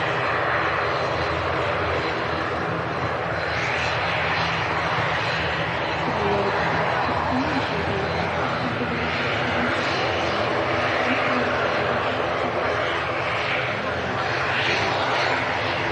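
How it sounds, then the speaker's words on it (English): ATR turboprop airliner engines running steadily as it holds and then starts moving, a continuous broadband drone with a faint hum that stays fairly constant throughout, with talk present at times. "ATR's holding for a while."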